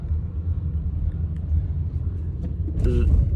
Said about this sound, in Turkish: Şu an taksiye bindim.